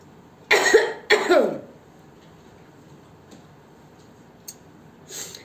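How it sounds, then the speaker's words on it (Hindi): Two sharp coughs in quick succession, close and loud, followed by near silence with a few faint clicks. "मुझे खांसी आ रही है बहुत ज्यादा"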